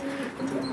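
A pigeon coos softly in a low, steady murmur, close by and alone.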